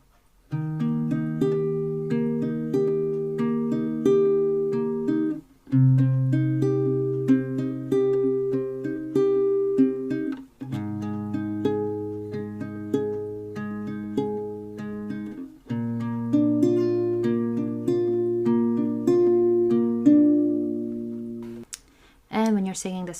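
Acoustic guitar slowly strumming and picking a song's chord pattern in repeated phrases separated by short breaks; close, clean and sustained, with no voice over it.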